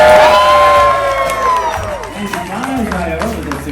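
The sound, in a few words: crowd cheering for dog Missy's jump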